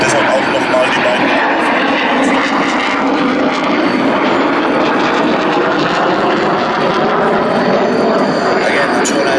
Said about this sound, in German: Again, the Tornado is making another show of force pass.